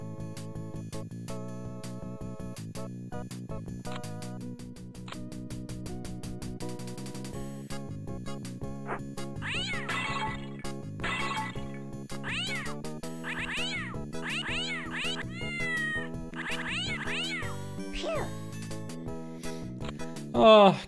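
Cats meow repeatedly in the DOS game Return of the Phantom, a string of bright, rising and falling electronic-sounding mews over a steady tonal game music bed, growing busier toward the end.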